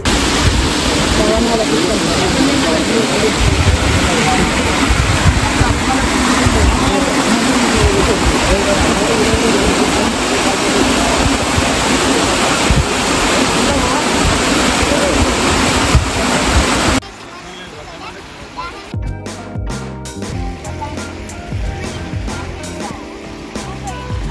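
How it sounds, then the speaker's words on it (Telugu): Rushing water at Bayyaram (Pedda Gutta) waterfall in Mahabubabad, loud and continuous as a broad roar for about seventeen seconds, then cutting abruptly to a quieter, more distant flow with a few knocks and rustles. "మొత్తానికి వాటర్ సౌండ్ అనిపించింది"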